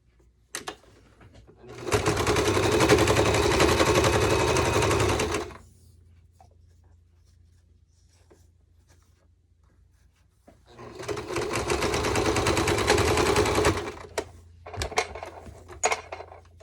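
A sewing machine stitching a fabric face mask whirs in two sustained bursts of about four and three seconds, close and steady, with quiet pauses and small clicks between runs.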